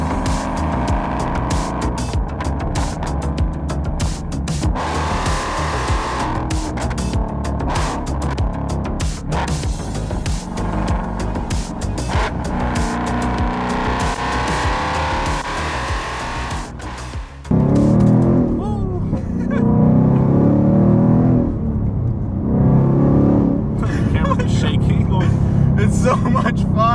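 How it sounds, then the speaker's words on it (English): A 675 hp supercharged Ford Mustang GT muscle car drives along, its engine and road noise steady throughout and rising to a louder, fuller burst partway through, with a person talking over it. "let's go ahead and take the car for a drive and see how it feels."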